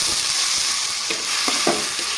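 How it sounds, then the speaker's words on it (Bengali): Carrot paste fries in ghee in a pan, a continuous close sizzle broken by several scraping stirs of a spatula, with no one speaking. "গন্ধ না যাওয়া অবধি আমি গাজরটাকে আমি ভেজে নেব সুন্দর করে"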